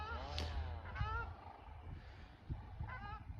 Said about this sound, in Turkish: Bunlar büyük ihtimal ötüşünden yabani ördek olduğunu tahmin ediyorum.